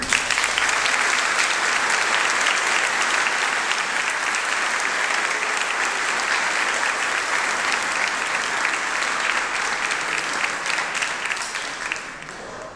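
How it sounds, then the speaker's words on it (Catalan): A large audience at a book presentation in Benicarló applauds loudly and continuously, a dense wash of clapping that holds steady before tapering slightly at the end. "Demano un fort aplaudiment per a tots."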